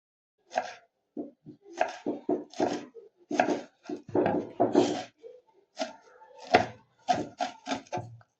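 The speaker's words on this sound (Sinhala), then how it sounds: "දැන් මේක භාජනයකට දාලා ඒකටම කතුරුංග මල් ටිකත් කපලා දාගන්න ඕනේ" Agati (katurumurunga) flowers being chopped with a knife on a board, a close run of sharp, uneven taps in quick bursts with short pauses between them, no voices over it.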